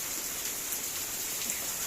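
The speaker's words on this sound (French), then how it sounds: "Et là, ça pleut à grosses gouttes." Heavy rain falling in big drops outdoors during a steady, long-running downpour, a dense continuous hiss of drops striking surfaces with no talking.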